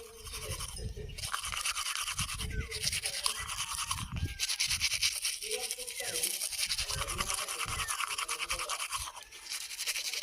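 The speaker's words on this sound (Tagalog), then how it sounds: "Toothbrush naman tayo." Brisk toothbrush scrubbing in a small van, steady close-up scraping and bristle swishing that runs for several seconds, with laughter and a few words spoken over it.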